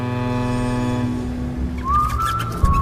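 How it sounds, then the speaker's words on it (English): The classic Steamboat Willie whistle from the Screamboat horror trailer: a single bright, rising whistled note enters near the end over a steady droning music bed. "The classic Steamboat Willie whistle"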